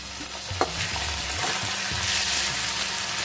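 Prawns frying with softened onions in a pan, steady close sizzling with scattered clinks and scrapes of the spatula as the mixture is nudged, no talking.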